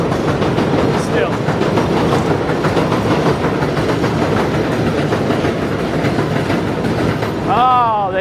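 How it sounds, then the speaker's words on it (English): Train passing in New York City, a loud continuous rumble and clatter of rail cars close by throughout, ending with a brief squeal of wheels or brakes. "I'll definitely want to get away from the trains for a little bit"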